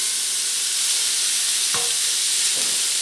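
Beef browning in a wide skillet, a loud continuous sizzle and hiss with a couple of brief scraping stirs near the end.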